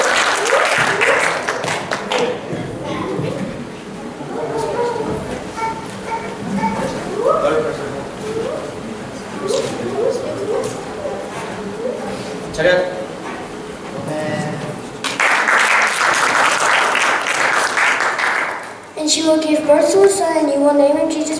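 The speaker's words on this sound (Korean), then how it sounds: "give them the big hand" Audience at a Korean Presbyterian church Christmas program applauding, bursts of clapping mixed with speech and children's voices, then loud sustained applause near the end.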